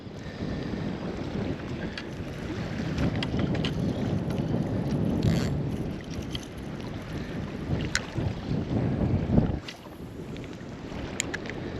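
Gusty wind buffeting the microphone at a lagoon during a fishing trip, a continuous low rumbling roar that swells and eases, close and loud, with no talk.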